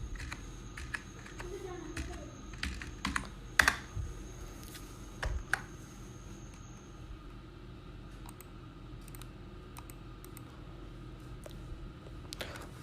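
Keys clack on a computer keyboard as a word is typed during a Microsoft Word lesson, a short cluster of light, close taps followed by sparse clicks under a soft background hum.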